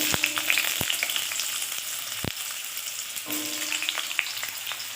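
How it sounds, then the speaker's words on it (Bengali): Potatoes frying in mustard oil crackle and sizzle steadily close by, broken by several sharp knocks of a utensil against the pan, with no talk. "তো আমি এবারে আলুটা ভেজে নেব"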